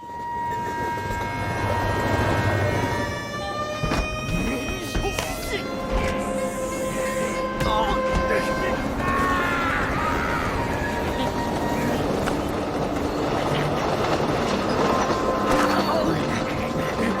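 A train runs on rails in a film scene, with a continuous rumble and clatter overlaid by tonal screeches and music-like sustained tones throughout, moderately loud and steady.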